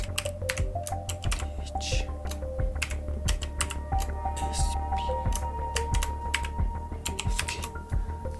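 Fingers type a web link on a computer keyboard, a rapid run of close, crisp key clicks with brief pauses between bursts, and no one speaking.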